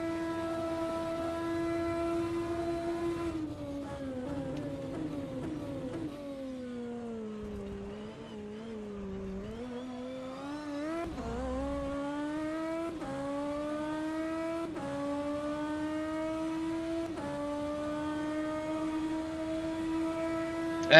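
Racing car engine in the sim game rFactor 2, a V8-like note with strong harmonics, revving up and down through gear changes for a sustained stretch, close and loud with no talk.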